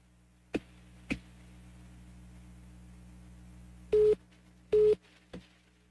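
On a radio call-in line, two clear electronic busy-signal beeps sound close and loud, each about a quarter-second long, spaced under a second apart. Sharp line clicks come before and after them over a faint low hum.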